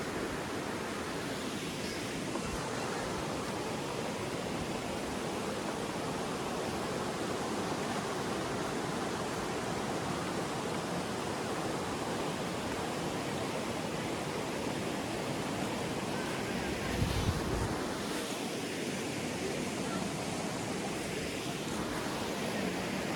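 Water rushing over rocks below a small bridge at Siloni picnic spot in Karbi Anglong, a constant broadband roar that holds steady for over twenty seconds, with a faint thump partway through.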